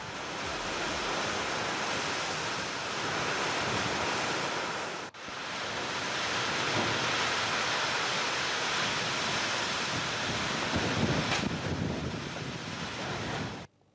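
Stormy pre-monsoon wind with rain and hail in rural Nashik, a steady loud roar of gusts and pelting that fills the whole stretch, with a brief dropout midway and no voices.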